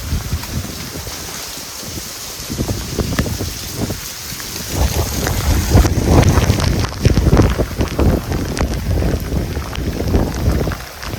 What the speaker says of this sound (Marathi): हा बघा समुद्र जाम खवलला आहे, कारण जाम वारा आहे